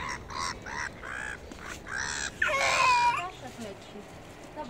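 Birds being fed in Fitzgerald's Park give a run of harsh, cawing calls at close range, with one louder squawking burst in the middle, over a quiet outdoor background.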